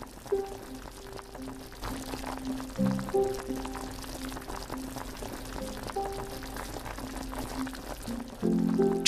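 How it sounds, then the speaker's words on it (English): Steady bubbling and gurgling of boiling water in a pot as spinach is blanched, a continuous close wash of liquid noise with faint tonal hum running underneath. "Place the spinach into the boiling water."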